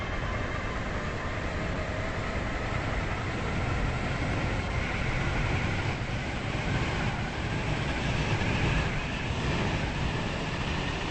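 A Stepford Express train in a video game runs along with a steady, even rumble and broadband rolling noise, constant and unbroken with no voices.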